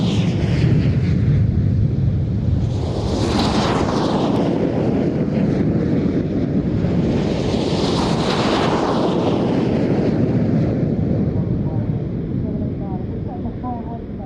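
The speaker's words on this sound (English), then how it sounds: "These engines now power them up, accelerating through about 100 miles an hour already." Red Arrows jet aircraft roaring loudly on takeoff at the 2014 Farnborough Airshow, a continuous heavy engine rumble with two rising surges as jets pass, wind buffeting the microphone, with a commentator talking over it.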